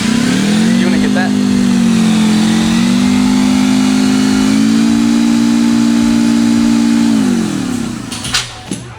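A Whipple supercharger spun on a workbench by a turning device during final assembly: a loud, steady mechanical whine that wavers slightly, then drops in pitch and stops, leaving a few light clicks.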